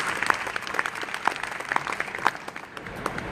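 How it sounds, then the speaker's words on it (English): An audience at a trucking show event applauds the sponsors with a lively, dense burst of clapping and some distinctly sharp individual claps, steady for a few seconds before easing slightly. "So let's once again give our sponsors a round of applause for their contributions."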